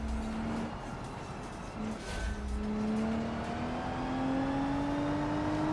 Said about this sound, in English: I hear the cars behind me.